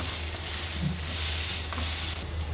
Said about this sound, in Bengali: আস্তে আস্তে করে এপিট ওপিট সুন্দর করে ভেজে নিতে হবে